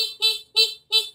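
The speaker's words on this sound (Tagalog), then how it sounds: "O, tapos, busina ka." Car horn on a vehicle's light and horn wiring setup sounds three short, evenly spaced honks, close and loud, with no talking.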